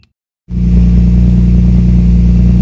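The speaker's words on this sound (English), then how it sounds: "I'm gonna start the engine and see if it's acting up again." A Nissan Skyline R32 with an RB25DE-T engine and loud exhaust, checked for a fluctuating idle, fires up after a brief silence and settles into a loud, close, steady rumble.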